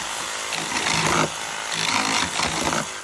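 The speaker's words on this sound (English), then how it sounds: "If the Sawzall cooperates." A Sawzall reciprocating saw rasps loudly through sections of a flat roof, a close, harsh buzzing cut that swells and eases in bursts over a few seconds, with no talk.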